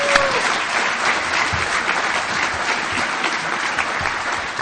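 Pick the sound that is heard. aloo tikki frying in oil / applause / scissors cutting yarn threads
applause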